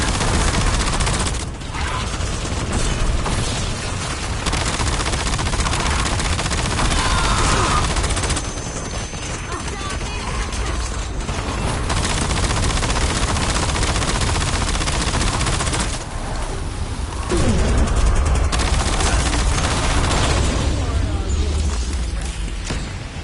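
Sustained automatic gunfire in the game Call of Duty Black Ops 7, loud and nearly continuous with brief lulls, over a dense combat din with speech mixed in.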